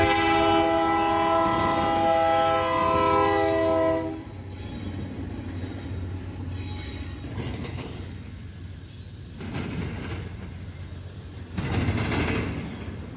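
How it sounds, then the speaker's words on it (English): An NS intermodal freight train crosses a railroad diamond in Georgia, opening with a loud multi-tone horn blast, then a rumbling roll of wagons with rhythmic clanks and clatter as cars pass over the crossing. "Here's a video I took of the diamond being used by an NS intermodal back in May of"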